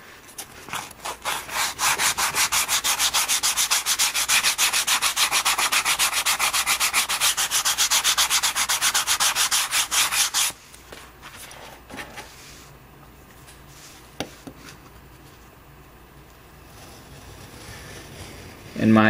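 Steady, loud rhythmic rubbing of sanding cork strips runs for about ten seconds, then stops, leaving quieter handling noises and a few knocks.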